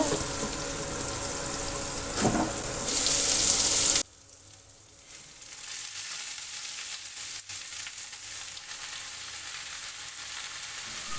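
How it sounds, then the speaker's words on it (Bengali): Potatoes and onions sizzling in hot oil in a home kitchen pan for a rohu fish curry with winter vegetables, a loud frying hiss at first that drops abruptly to a quieter, steady sizzle. "এখন আমি পেঁয়াজের সাথে আলুগুলোকেও একটু ভেজে নিচ্ছি"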